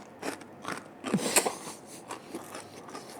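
A quiet, close bite into crunchy, freshly baked yeast-dough pizza, with a few soft crackling snaps and one sharper crunch in the middle, alone without talk.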